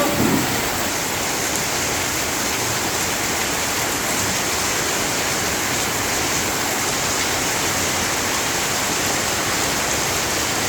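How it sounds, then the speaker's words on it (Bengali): Heavy rain pours down steadily during a monsoon afternoon, a loud dense continuous roar with no pauses and no voices. "কি বৃষ্টি এলা, ঝুম বৃষ্টি হচ্ছে রে।"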